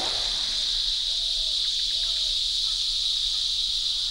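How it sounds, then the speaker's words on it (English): A cicada in wild India gives a continuous, loud, high-pitched buzzing drone that holds steady without a break. "The cicada's love song is the loudest noise in the insect world."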